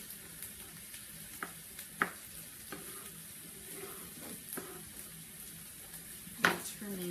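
Chicken pieces fry in a pan with a soft, continuous sizzle, broken by a few sharp clinks and scrapes as the pieces are turned over, heard fairly faint and without talk.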